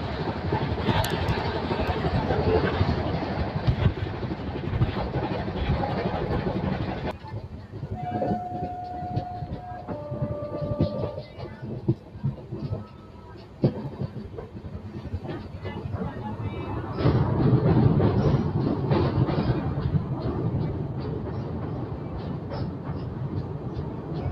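A train hauled by a WH7 locomotive arrives on the Pune to Kurduwadi line, its heavy rolling rumble joined midway by a few sustained horn tones before the clatter swells again near the end.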